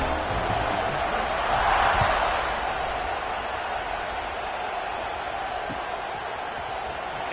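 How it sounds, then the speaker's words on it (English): A stadium crowd in the College Football 26 video game, at a Penn State vs Ole Miss game, keeps up a broad, steady roar that swells briefly and then holds at an even level. "this crowd is feeling themselves after that last drive"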